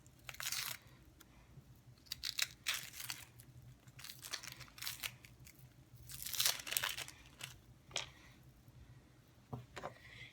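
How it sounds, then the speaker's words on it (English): The papery outer skin of an onion is peeled off by hand, giving quiet, intermittent crinkling and crackling bursts close up over a low background hum, with no talk. "I'm going to peel the outer skin off of it."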